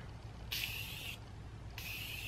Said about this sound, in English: Only gonna use setting spray on one side